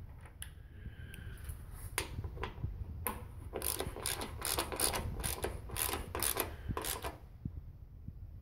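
Ratchet wrench tightening bolts on new inline fuel line parts for a 1969 Oldsmobile 442 W30, heard as repeated bursts of crisp ratcheting clicks, close and fairly loud, with short pauses between strokes.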